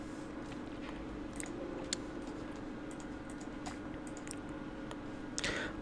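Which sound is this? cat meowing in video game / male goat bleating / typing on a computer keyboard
typing on a computer keyboard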